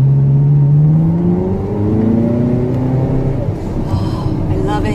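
A Ferrari engine revs as the driver accelerates, a loud, rising tonal drone that climbs steadily in pitch and holds, close up.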